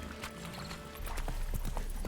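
Hooves of the horse Roach clip-clop in The Witcher 3, a steady rhythmic patter that grows louder in the second half, mixed with game ambience and a voice talking over it.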